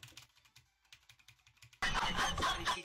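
Fingers tapping computer keyboard keys to play a Pump It Up doubles chart by hand, starting as sparse, evenly spaced clicks, then bursting into a loud, dense flurry of rapid keystrokes.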